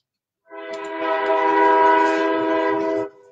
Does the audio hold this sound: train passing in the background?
yes